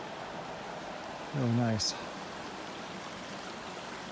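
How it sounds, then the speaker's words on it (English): Water flowing down a small mini canyon stream along the Arizona Trail near Hutch's Pool, a steady soft hiss running throughout while someone briefly speaks over it. "nice little cutaway down this little mini canyon here where the water flows"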